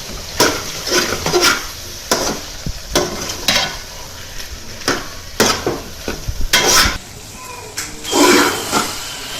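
Fish katakat is stirred in a pan, with a run of sharp utensil scrapes and clinks against the metal over a soft sizzle, the strokes coming irregularly for several seconds with no voice over them.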